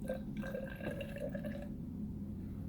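Deionized water is poured into a graduated cylinder in a quiet lab, a faint, thin trickle with a ringing tone that fills for under two seconds before the pour stops.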